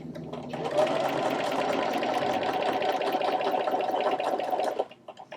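A sewing machine stitches vegan leather in one steady, fast run lasting several seconds, close and loud, then stops abruptly.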